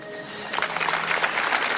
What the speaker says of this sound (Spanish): José Manuel Morales, os pido un aplauso para él.